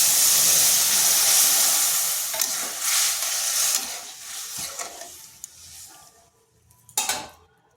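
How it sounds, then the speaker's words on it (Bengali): Boiled lentils hit a hot pan of spices with a loud sizzle and hiss that gradually fade, while a spoon stirs and scrapes close by. A sharp clatter of cookware comes near the end. "এরপর দিয়ে দিচ্ছি সেদ্ধ করা ডালটা।"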